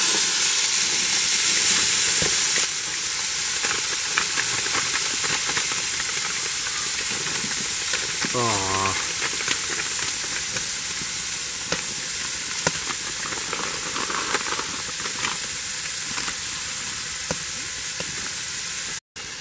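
A Jimmy Dean skillet breakfast fries inside a heated winter camping tent, a loud steady sizzle and hiss that runs throughout, with brief scraping clicks partway through.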